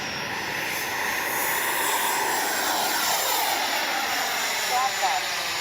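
An RC jet plane roars loudly close by as it takes off and climbs vertically, with a steady turbine whine whose pitch sweeps as it pulls away, under a speaking voice.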